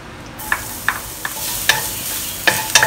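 Chopped garlic fries in a little oil in a pan, a steady sizzle punctuated by sharp spatter pops and a few stirring clicks, close and fairly loud.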